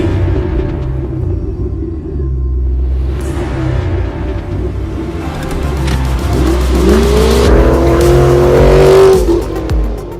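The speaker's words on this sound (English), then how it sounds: "This vehicle does come equipped with a 5-liter V8 engine." A 2019 Ford Mustang GT with a 5-liter V8 drives past, its deep engine rumble climbing as it revs and accelerates, with a rising tone and a slight tire squeal near the loudest point.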